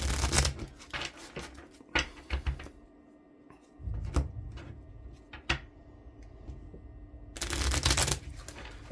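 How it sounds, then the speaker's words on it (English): A light shuffle of baseball game cards, one or two quick riffling bursts at the start and again at the end, with softer card handling and small taps in between, close up and with no talking. "So just a light shuffle,"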